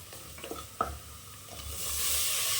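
Tomatoes sauté in a pan for egg biryani, a soft, close sizzle with a few scraping stirs of a spatula early on, the frying hiss swelling louder toward the end.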